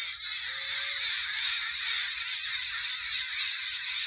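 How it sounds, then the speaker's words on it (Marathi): A dense, continuous chorus of bird chatter fills the air over village farmland in the morning, with crows cawing within the clamor; no voices. "किती कालवा आहे पक्ष्यांचा."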